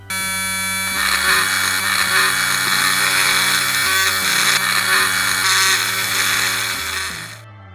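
A power tool buzzes steadily as it shaves down a 1 mm antenna for a Tamiya 1/35 Type 10 tank model, a loud whining drone with shifting pitch that runs for about seven seconds before cutting off.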